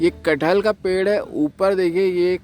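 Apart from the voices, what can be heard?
No everyday noise stands out behind the speech.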